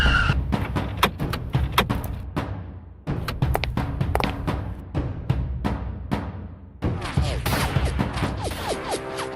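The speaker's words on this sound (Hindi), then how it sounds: "पुलिस पर गोली चला रहा है।" Rapid bursts of gunshots crack out in volleys, sharp and close, separated by brief pauses, with a chaotic clatter continuing toward the end.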